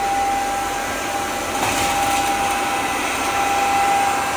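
A vacuum cleaner running in economy mode gives a loud, steady whooshing drone with a constant high whine, close by and alone throughout.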